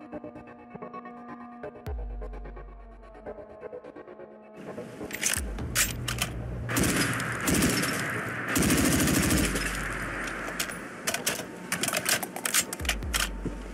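Video game gunfire from an AAC Honey Badger weapon mod in Fallout 4: sharp rapid automatic bursts and single shots, loud and up close, broken by short pauses and mixed with clicking weapon handling sounds.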